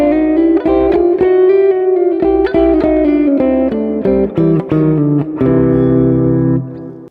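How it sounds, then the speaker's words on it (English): An electric blues guitar plays a lesson exercise of double stops reaching beyond the pentatonic box, with plucked paired notes in a loose rhythmic phrase, bright and loud with a little reverb, ending on a held chord that rings out. "This is a more advanced exercise to help you break out of just the pentatonic box using double stops"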